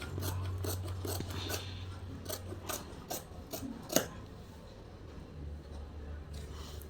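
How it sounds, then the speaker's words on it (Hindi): Scissors cutting a belt strip from blouse fabric: a rapid series of crisp snips and rasping blade strokes, close and fairly quiet, with faint low background hum. "बेल्ट को भी कटिंग करके निकाल देंगे।"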